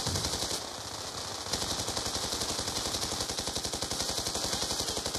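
Rapid automatic gunfire from a Black Ops 2 match runs almost without a break as a loud, steady, dense rattle of shots, with a short lull near the start, and no talking over it.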